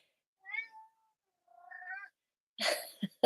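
Daisy the cat gives two soft, drawn-out meows close by, separated by a pause, followed by a brief burst of rustling.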